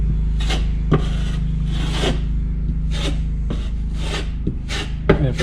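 A drywall knife scrapes pink spackle mud across a patched sheetrock wall in repeated rasping strokes, each drawn close and loud, with a low steady hum underneath.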